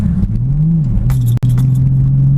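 A Nissan 350Z engine drones loudly from inside the cabin while driving, the pitch rising and dipping, then a sharp clunk and brief drop during a gear shift before the steady rumble resumes.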